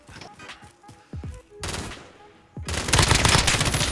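Gunfire from the Call of Duty video game, with sharp single shots and bursts early on that give way to a loud, continuous fusillade of rapid automatic fire over the last second and a half.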